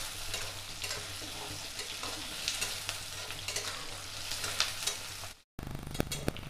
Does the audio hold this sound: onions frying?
yes